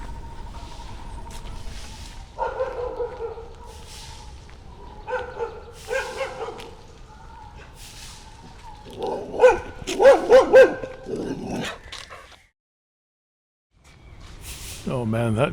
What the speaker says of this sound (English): that dog just came tearing around the corner, barking like mad